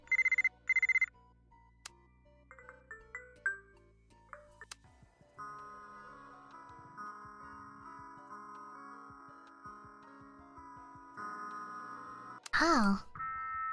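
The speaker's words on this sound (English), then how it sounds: "Oh, I have different ringtones." Phone ringtones in the video game Buried Stars: sharp electronic ring bursts at the start, then a tinkling melodic tone sequence, a sustained chiming tune with soft ticking, ending in a loud ringing burst.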